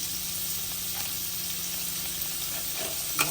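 Shredded cabbage fries in hot oil for Chinese fried rice, a steady close sizzle with scraping stirs of the spatula near the end.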